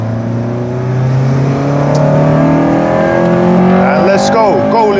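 A Honda FN2 Civic Type R with a K20 VTEC engine accelerates hard on the Nordschleife. The loud engine note climbs steadily, with a brief shift near the end, heard from inside the car.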